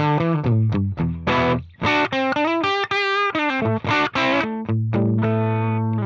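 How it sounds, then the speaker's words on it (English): Gibson Les Paul Standard '60 on its bridge pickup, played through a Marshall JTM amp tone model with no effects: loud, overdriven chords and riffs, struck repeatedly with brief gaps, close and alone with no talking. "And now I have a guitar in my hands here, and you can hear this tone model really without any effects."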